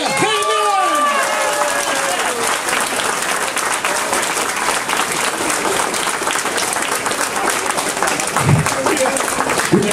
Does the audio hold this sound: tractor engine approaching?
no